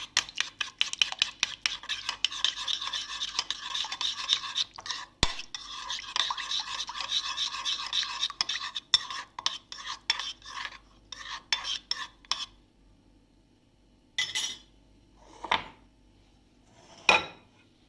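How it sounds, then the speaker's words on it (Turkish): A spoon whisks briskly in a bowl of salad dressing made with ketchup, giving a long run of close, rapid scraping clicks that slow and stop, leaving a few sparse taps at the end. "Şöyle bunu güzel bir şekilde karıştırıyoruz."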